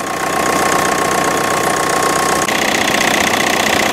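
An Opel Vectra's 2.0 DTI 100 hp diesel engine runs at idle close up, with a steady knocking clatter and even mechanical hum throughout.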